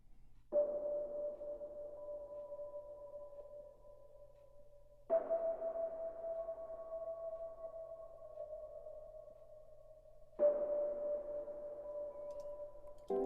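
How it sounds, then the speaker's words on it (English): An Omnisphere Echoes of Air synth pad plays three long, airy tones, each starting with a soft swell and sustaining smoothly before the next begins, alone and fairly quiet. "Then we have two instances of Omnisphere's Echoes of Air"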